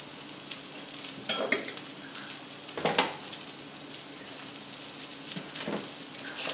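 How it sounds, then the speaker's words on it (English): About a tablespoon of butter melts in a frying pan, giving a soft, steady sizzle with small bursts of crackling spatter, quiet and close, with no talk over it. "we want to take just a little bit butter, about a tablespoon. Let it start to melt."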